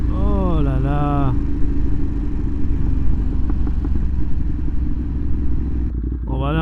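A motorcycle engine hums as the bike is ridden, a steady close rumble with wind noise, joined briefly at the start by a warbling melodic tone.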